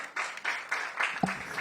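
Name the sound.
audience applause for the speaker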